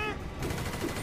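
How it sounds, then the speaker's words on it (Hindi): A rifle and pistol fire in GTA 5 as a rapid burst of shots, dense and close, running through a brief stretch of game noise. "माइकल तुक तुक करके राइफल, तुक तुक करके ये पिस्टल चलाएगा"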